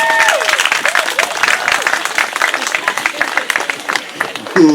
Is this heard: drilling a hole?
no